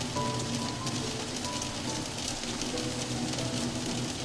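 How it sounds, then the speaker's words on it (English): Steady rain falling in the video game Until Then, a constant soft patter over a gentle tonal music bed, with no voices. "Oh, it's raining though."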